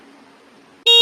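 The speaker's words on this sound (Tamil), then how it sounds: "எவன்டா அவன் நம்மக்கிட்ட வந்து ஹார்ன் அடிக்கிறது?" A scooter horn gives a single short, sharp honk close by. It cuts in abruptly after near silence.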